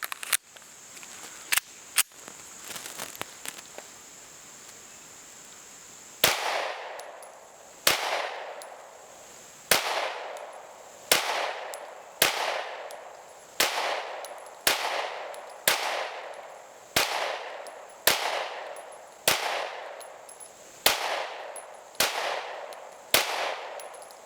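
Smith & Wesson M&P 9 M2.0 all-metal 9mm pistol firing at an outdoor range: a few quick early shots, then a long, steady run of single loud, sharp reports spaced about a second and a half apart, each ringing out briefly.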